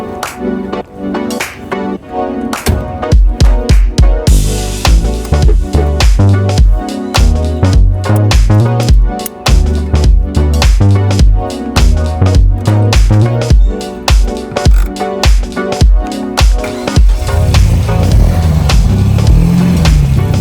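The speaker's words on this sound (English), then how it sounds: "We're gonna go for a ride in this car" A 1972 MGB with a roughly 100-horsepower engine drives along, its engine loud and close as it climbs and drops in pitch through repeated rises and gear changes, with no voices.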